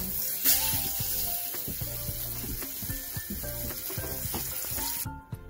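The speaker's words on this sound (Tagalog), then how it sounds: "pitrito lang natin ng mabilis sa cooking oil para mag-dip lang yung cornstarch and flour" A pork chop coated in cornstarch and flour fries in hot cooking oil, giving a steady, close sizzle with scattered stirring clatter, then cutting off abruptly near the end.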